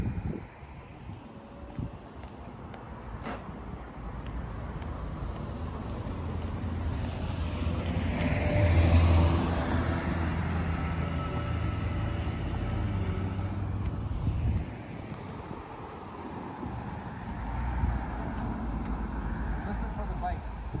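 A motorcycle rolls up a hill and comes to a stop, its engine a low steady rumble that swells around the middle and then settles, heavily masked by constant wind noise on the microphone.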